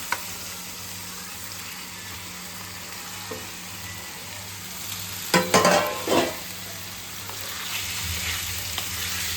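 Pieces of blood fry are stirred in a hot pan at home, a steady oil sizzle running throughout with a brief cluster of louder scraping, clattering stirs in the middle.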